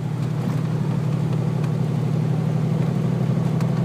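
A 1989 Camaro Z28 with a 305 V8 idles with a steady, deep low rumble, held at an even level throughout with no talking over it.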